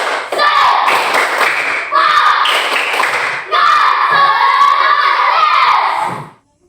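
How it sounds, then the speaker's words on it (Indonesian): Children in a classroom or school setting perform a rhythmic spirit clap with shouted chanting, three loud bursts of clapping and voices close by, each separated by brief pauses. "Tepuk semangat."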